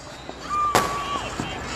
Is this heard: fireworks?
yes